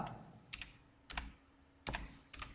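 Keys clack on a computer keyboard as an Excel formula is typed, several short clusters of close, crisp taps separated by brief pauses.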